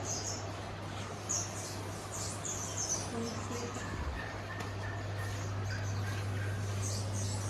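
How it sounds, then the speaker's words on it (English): Birds at a farm park chirp and call in faint, scattered high notes over a steady low hum, with soft background voices. "Ah, and there's birds."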